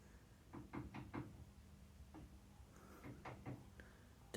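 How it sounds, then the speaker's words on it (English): A next-door neighbour bangs and taps on a kitchen larder cupboard wall, with a quick cluster of muffled knocks, a lone thud, then a second uneven run of taps, dull and heard through the wall over a low room hum. "That is my next door neighbour banging and tapping on the larder cupboard wall in the kitchen"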